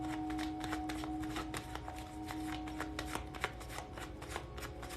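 Tarot cards being shuffled over about five seconds, a steady papery riffle of dense, rapid flicks that continues without pause, close to the mic, with a faint low hum underneath and no speech.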